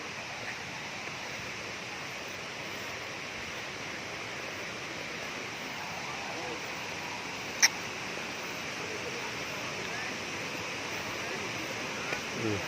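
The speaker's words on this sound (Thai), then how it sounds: "ตอนนี้เรามาใกล้จะฮอดน้ำตกแล้วเนาะได้ยินเสียงแล้ว" Steady broadband rush of water from Kuang Si waterfall near Luang Prabang, a constant even roar with one sharp click partway through.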